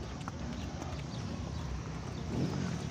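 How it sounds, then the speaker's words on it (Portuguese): Horse hooves clip-clop over a continuous outdoor rumble as a rider crosses a town square in the interior of Bahia, the steps soft and somewhat masked. "Nós estamos aqui a cavalo."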